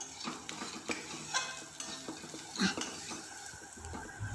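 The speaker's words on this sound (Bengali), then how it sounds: "হলদি, মির্চা দিয়ে ফের একটু ভেজে নিতে হবে।" Vegetables fry in a pan with salt, turmeric and chilli for a village-style dry curry, giving a soft, low sizzle under the occasional scrape and clink of a spoon stirring against the pan.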